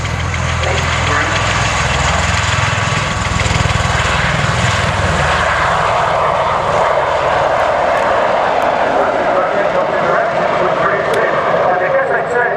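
Loud, sustained roar and drone of a US Marines MV-22 Osprey tiltrotor's engines and propellers at the RIAT 2012 airshow. The pitch and throb shift slightly over time while a commentator talks over it.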